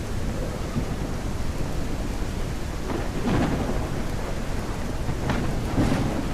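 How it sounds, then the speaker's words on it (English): Low rumbling thunder in a video game, The Legend of Khiimori, rolls through a steady wash of rain and wind, with a couple of louder swells toward the end. "I mean, it's thundering, there's wolves around."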